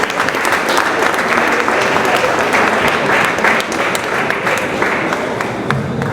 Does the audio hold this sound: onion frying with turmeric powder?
no